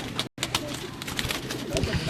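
Pigeons prepared by a keeper in a Lahore-style flock coo softly and repeatedly in the background, with steady low murmuring and scattered bird calls, briefly broken by a short dropout.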